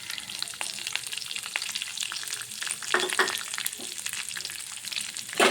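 Mustard seeds and curry leaves frying in hot oil, a dense, bright crackling sizzle with scattered pops and occasional stirring, close and loud throughout.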